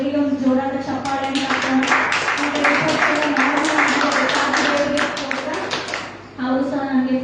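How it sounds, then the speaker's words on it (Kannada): A church congregation bursts into loud applause, with dense clapping mixed with raised voices and cheering that fades out toward the end. "ದೇವರಿಗೆ ಒಂದು ಜೋರಾದ ಚಪ್ಪಾಳೆ."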